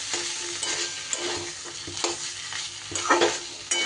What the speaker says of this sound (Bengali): এইবার সব কিছু খুব সুন্দর করে একটু কড়াইতে নেড়ে নেড়ে ভাজা ভাজা করে নিতে হবে